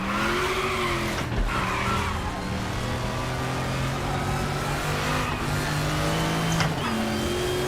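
A Group C race car at the Norisring rumbles steadily while its tyres scrub and squeal as they lock under hard braking, the engine tone sliding down with brief skids sharp against the continuous drone.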